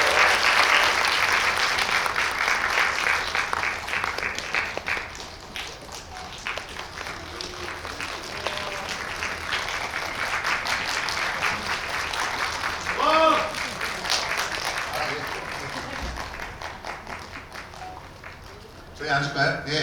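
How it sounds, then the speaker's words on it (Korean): Applause in a Megabox COEX cinema auditorium as guests are welcomed for a post-screening talk, a full burst of clapping from the theater audience that thins into murmuring crowd noise and voices. "힘찬 박수로 모시겠습니다."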